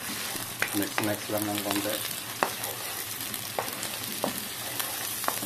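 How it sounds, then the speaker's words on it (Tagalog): Onion, garlic and ginger sautéing in a hot pan, a steady close sizzle with occasional stirring clicks of a utensil, and a voice speaking briefly over it. "Gisa na tayo ng sibuyas, bawang luya."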